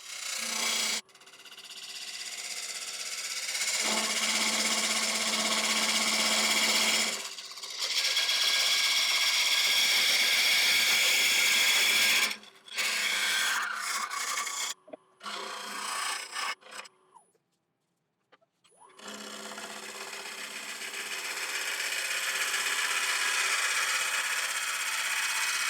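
A wood lathe turns a cracked spalted beech bowl while a tool cuts the wall thinner, giving a loud, continuous rasping hiss with short pauses and one longer stop before the cut resumes.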